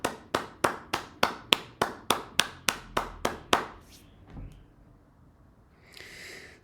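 Around a dozen sharp, evenly spaced hand claps ring out close and clear, then stop, leaving a quiet room with faint movement and a brief noise at the end.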